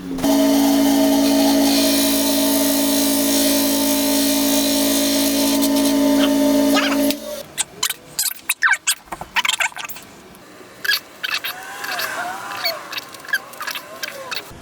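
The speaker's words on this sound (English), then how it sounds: "So I'll take it over to the sander and just sand it down." An electric sander smooths small wooden intarsia pieces for a reindeer design with a loud, steady humming drone for about seven seconds. It then stops, and scattered nearby clicks and handling noises follow.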